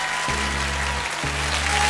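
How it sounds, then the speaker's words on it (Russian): Applause rings out in the Pole Chudes game show video game, steady clapping from a studio audience that fills the whole stretch at moderate loudness, with a low tonal musical layer beneath it. "Эти аплодисменты вам!"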